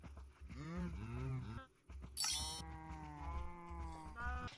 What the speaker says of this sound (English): My trip across the river also resulted in us bringing home a couple of sheep